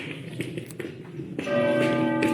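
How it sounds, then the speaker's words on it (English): Distant cathedral bells begin ringing partway through, a sustained metallic tone over faint street ambience and scattered taps, on old pedestrian streets in Galicia, Spain. "I can hear the cathedral."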